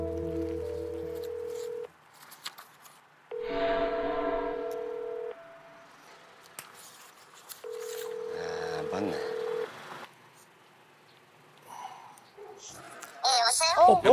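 Steady telephone tones sound in three long bursts separated by pauses, like a phone ringing on the line, with short keypad beeps and a voice at the end.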